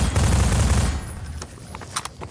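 Machine gun fire in the video game Half-Life 2, a dense rattling burst that cuts off after about a second, followed by scattered sharp impacts and clanks.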